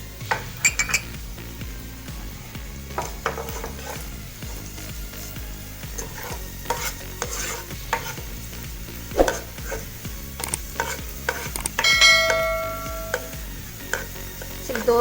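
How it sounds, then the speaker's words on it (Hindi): Sliced onions frying in oil and butter in a pot for a creamy white chicken makhni handi, a steady close sizzle broken by repeated spoon scrapes and clinks against the pan, with no voices. "अब हम इसमें प्याज फ्राई करेंगे।"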